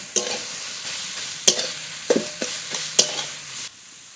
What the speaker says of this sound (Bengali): হলুদ গুঁড়ো নেড়ে এবার একটু ঢেকে দেবো